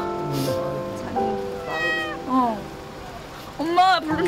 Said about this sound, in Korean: 갑자기 울어대기 시작하는 새끼 고양